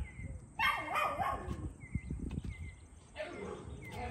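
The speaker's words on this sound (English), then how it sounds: "Y'all hear them barking in the background?" Several dogs barking repeatedly nearby, overlapping yaps and woofs in short bursts, with some background commotion.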